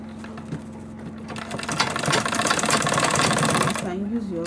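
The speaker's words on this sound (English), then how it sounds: "So I'll stitch it." A sewing machine stitching the side seam of a handmade bag, running in a steady close mechanical rattle for a couple of seconds before stopping, with a person talking over it.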